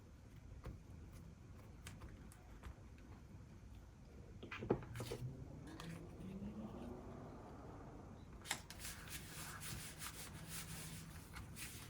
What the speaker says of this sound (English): I reckon I'm just gonna glue this whole thing down